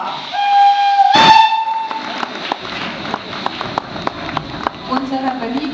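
Steam locomotive TKT48 at a steam locomotive gala gives a loud, sharp whistle blast near the start, followed by rhythmic chuffing and clanking as it moves, with a crowd murmuring around it.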